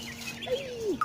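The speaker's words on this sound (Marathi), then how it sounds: "हे मागे कोकिळा ओरडते." An Asian koel calls from the background in a Konkan village orchard, a single faint sliding note with a brief higher chirp, set against quiet rural ambience.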